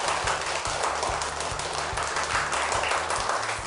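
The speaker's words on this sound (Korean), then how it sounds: "오늘 강연해 주신 장호순 교수님께 다시 한번 박수 부탁드리겠습니다" An audience at a university lecture on local autonomy and regional media gives steady, continuous applause, a dense wash of many hands clapping together, moderately loud with no talk.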